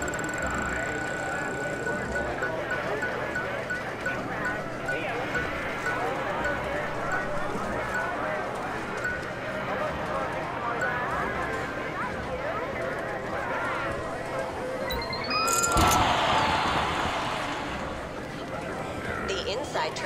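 Horse hooves gallop steadily in the GTA Online casino horse racing game, a continuous drumming rhythm running under an announcer's voice, with a brief louder swell near the end.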